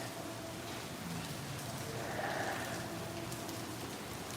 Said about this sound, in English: we still got a good bit of water coming down.